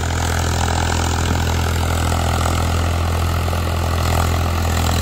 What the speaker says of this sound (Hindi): चेक करो आप साउंड, चेक करो भाई ट्रैक्टर की आवाज़ को